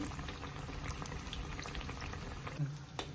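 Bread pakoras bubble in hot oil over a medium gas flame, a faint steady boiling hiss with scattered soft pops and crackles, no talking.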